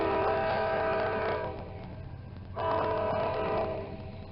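A Norfolk Southern train passes, and its loud harmonic horn sounds in two long blasts separated by a short break, over steady rumble from the rails.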